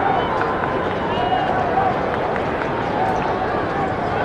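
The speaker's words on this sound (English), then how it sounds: "Crowd is building all the time." Steady roar of a building stadium crowd at a Carlton versus Collingwood Australian football game in 1999, a continuous even babble with faint cheers and no single standout sound.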